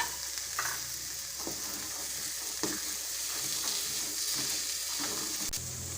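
Chickpeas are stirred into roasted masala in a pan, a continuous close sizzle punctuated by several soft scraping strokes of a spoon, with a duller knock near the end.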